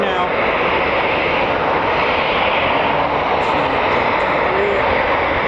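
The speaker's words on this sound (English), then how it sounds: "We've got 3 Typhoons taxiing now." Three Eurofighter Typhoon FGR4 jets taxi at an RAF station, a steady loud broadband engine roar with a high whine holding constant throughout, with a voice talking over it.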